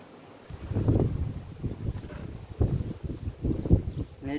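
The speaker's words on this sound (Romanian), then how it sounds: "Bate urât vântul" Gusty wind buffets the microphone in low, rumbling bursts that rise and fall, outdoors while tending beehives.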